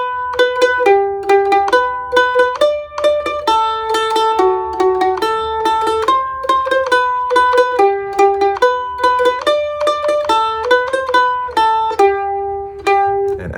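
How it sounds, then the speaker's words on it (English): A mandolin plays the folk tune Skip to My Lou with a shuffle lick, giving bright, rhythmic plucked notes in a steady, bouncy pattern. It is close and clear, with no talking. "fill it out to create the texture of folky, kind of bluegrass, old-time music with, guess what, the shuffle lick"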